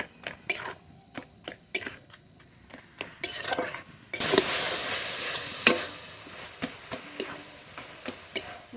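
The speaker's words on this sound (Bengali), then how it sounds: "এবার আস্তে আস্তে জাল দিয়ে নেড়ে নেব নাড়তে নাড়তে নাড়ু তৈরি করে নেবো" A spoon stirs and scrapes a grated coconut mixture in a pan over low heat while making coconut naru, with irregular clinks and knocks against the metal and a soft sizzle swelling midway.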